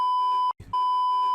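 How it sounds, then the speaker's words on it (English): A steady pure censor beep tone over a spoken name on a Battlefield podcast, holding loud and even, broken once by a brief gap of quiet voice before resuming. "let me just mark it so I can actually bleep the name"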